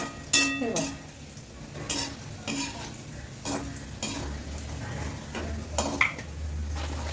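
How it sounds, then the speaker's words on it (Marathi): Black and yellow raisins frying in a pan, with a constant soft sizzle under periodic scraping strokes of a spoon against the pan, close by. "मनुके काळे आणि पिवळे ते आपण तळून घेऊया."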